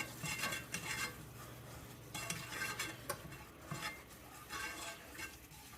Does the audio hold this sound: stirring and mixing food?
yes